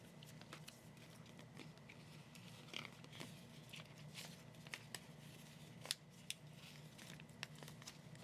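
Small scissors snip through a paper zebra sticker in light, irregular cuts, faint and close over a steady low background hum.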